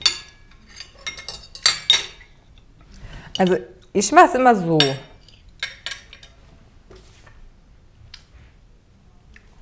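Cutlery clinking and being set down against plates and dishes in a few scattered bursts of metallic taps, heard close alongside a person talking.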